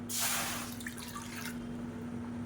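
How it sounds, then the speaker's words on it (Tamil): Water is poured from a measuring cup into a kadai in a kitchen: a brief, quiet splashing pour lasting about a second and a half, then low background hum. "இதில் வந்து மெஷரிங் கப்பில் ஒன்றே கால் கப் அளவுக்கு தண்ணி சேர்த்துக்கலாம்"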